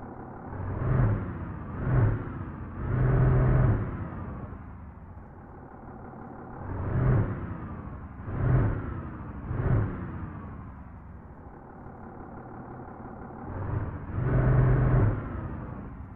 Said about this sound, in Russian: Вот такой вот был звук Caterpillar двигателя.